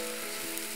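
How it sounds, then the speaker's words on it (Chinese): Water poured into a hot pan of tomatoes frying in oil hisses into a steady, close, loud sizzle with a brief burst of crackle. "咁我落少少水落去"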